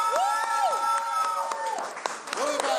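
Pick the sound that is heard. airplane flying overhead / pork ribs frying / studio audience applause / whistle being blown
studio audience applause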